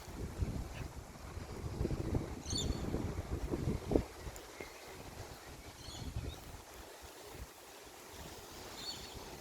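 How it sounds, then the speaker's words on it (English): Gusty wind buffets the microphone outdoors, with low rumbling bursts that swell and ease over several seconds and no voices. "Windy."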